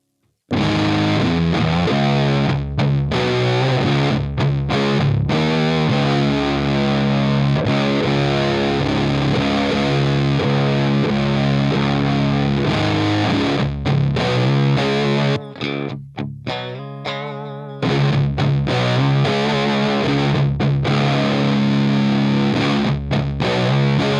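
Electric guitar runs through a Drunk Beaver Bat Cold War RAT-style distortion pedal with the gain up, giving thick, buzzy riffs and sustained chords, loud and continuous apart from a short choppy break near the end, with no speech.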